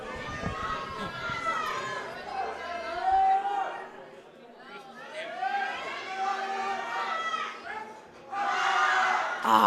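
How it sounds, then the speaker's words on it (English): A high school crowd at a powerlifting nationals meet shouts and cheers loudly for a lifter, voices rising in waves with yelled encouragement, ending in a sharp burst of noise. "Tyler getting a ton of support from the crowd."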